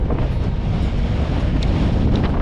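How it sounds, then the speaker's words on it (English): Strong westerly wind on the Lincolnshire coast at Sandilands, at low water on the beach, buffets the microphone in a constant loud rumbling roar with gusty low-end thumps throughout. "It is windy."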